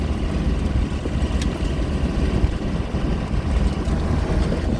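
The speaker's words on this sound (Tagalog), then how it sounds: "Lakas ng hangin." Strong wind buffets a microphone outdoors in a rural province, a continuous low roaring rumble that stays loud and unbroken.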